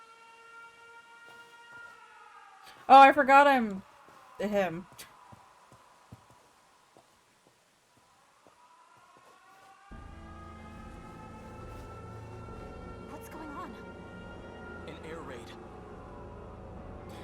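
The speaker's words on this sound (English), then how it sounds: "Air raid sirens." Steady, wailing air raid sirens drone at a distance throughout, rising and holding their pitch, with a brief spoken remark cutting in near the start, in the video game 13 Sentinels: Aegis Rim.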